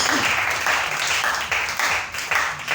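A congregation at a church service claps together in acclaim, a moderate, steady wash of applause lasting a few seconds with no voices standing out.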